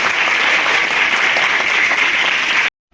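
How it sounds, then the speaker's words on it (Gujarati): Audience applause at a school science fair at Vinoba Ashramshala, Gadat: a dense, steady burst of many hands clapping at full strength for under three seconds, then cutting off abruptly into silence. "હું જોરદાર તાળી પડાવું તમારા માટે"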